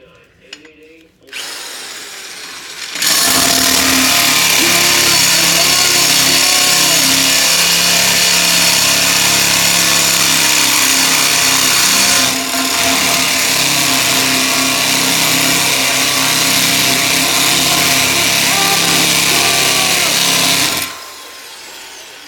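A power drill bores into a concrete basement floor with dull bits while a jack post is installed, a loud steady grinding drone lasting nearly twenty seconds with a brief dip midway, close to the microphone.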